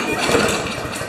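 A Poulan lawn mower engine sputters and turns over in a short, loud, close burst of rough mechanical pulsing as it tries to start after fuel is squirted in.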